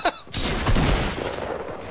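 An SMG fires in a video game, a sharp opening shot followed by a dense, sustained burst of rapid gunfire that stays loud to the end.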